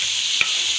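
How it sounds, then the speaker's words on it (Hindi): Capsicum and potatoes fry in spices, giving a brief burst of steady, bright hissing sizzle, close and even, broken by a single faint clink of a utensil. "मसाले शिमला मिर्च को फ्राई कर लिया अच्छी तरह"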